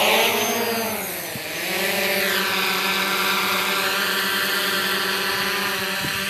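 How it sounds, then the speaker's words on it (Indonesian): DJI Mavic Pro drone lifting off and flying, a loud high-pitched propeller whine that dips briefly then rises and holds steady and close throughout. "Kita terbangkan drone-nya jauh."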